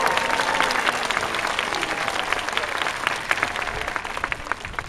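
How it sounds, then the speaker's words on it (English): Audience applause rings out at a sea lion show at Atlantis Aquarium, where a performing sea lion has just danced; steady dense clapping continues for the full stretch at moderate loudness, with a few faint voices mixed in. "I think she wants a little more applause for that."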